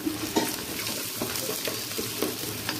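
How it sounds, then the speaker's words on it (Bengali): Ginger garlic paste is stirred into frying onions for bhuna khichuri, a steady close sizzle with a few soft spoon scrapes and knocks in the pan. "হালকা একটু মিশিয়ে নেব।"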